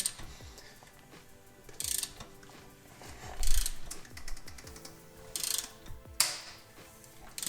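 Ratchet turning an engine timing tool bit clockwise, a quiet, close series of fine ratcheting clicks repeated in short bursts, with occasional sharper metallic ticks between them.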